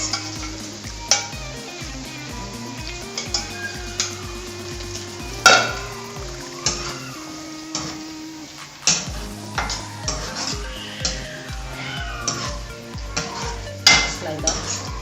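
Gizzard sauce stirred in a pot for assorted gizzard, with repeated metallic scraping and clinking of a spoon against the pot over a steady tonal background hum, occasional louder knocks, close and continuous.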